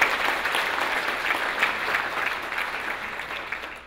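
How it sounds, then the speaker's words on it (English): Sustained applause from a summit audience fills the room at a steady, dense level, fading slightly toward the end, with no talking over it. "can we just give another round of applause to Remy, Jeremy, and Ryan for pushing this forward?"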